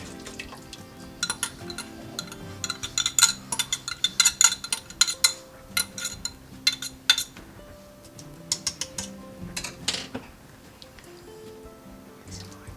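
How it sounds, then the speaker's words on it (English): A whisk scrapes and clinks around a metal pot as flour mixture goes into a beef stew, making quick irregular metallic taps in bursts with short pauses between them and no talking. "I'm going to take this flour mixture and whisk it into the pot just to thicken this stew up a little bit"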